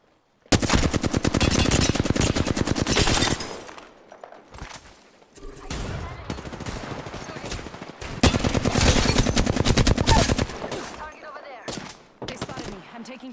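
Rapid automatic gunfire from a shooter video game comes in long, loud, sustained bursts separated by brief quieter gaps with scattered single shots.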